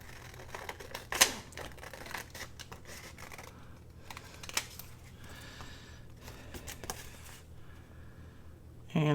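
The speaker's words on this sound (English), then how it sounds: "I'm going to go ahead and cut that white off" Scissors snipping the white edge off paper on a master board hinged journal file folder, a series of close, crisp cuts and rustles of paper at an uneven rhythm.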